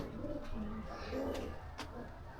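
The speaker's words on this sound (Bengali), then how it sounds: "আমাদের পাখি আছে, কবুতর আছে, কবুতর ঘর।" Pigeons in a pigeon house coo softly in low rolling calls, fairly faint beneath a steady background hiss with a few brief clicks.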